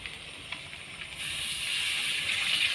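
Water poured into a pot of meat and potato curry, a soft hiss that swells into a steadier, louder rushing pour after about a second.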